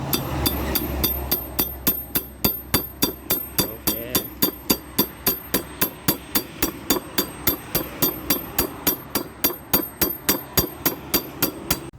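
Steady rhythmic tapping as a valve is lapped into the head of a four-stroke motorcycle engine, dozens of evenly spaced sharp metallic knocks close up over a low background hum, with no talking.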